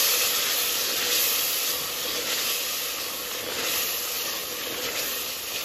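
Mutton stew masala with crushed black pepper fries in oil, giving a steady, moderately quiet sizzling hiss with no speech.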